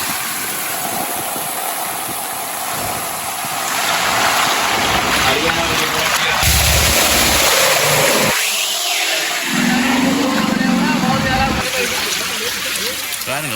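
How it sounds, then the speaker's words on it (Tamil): Floodwater rushes in a broad, loud, steady roar that fills the whole clip, with an engine idling underneath and people talking over it throughout. "பாருங்க எப்படி தண்ணி ஓடுது பாருங்க"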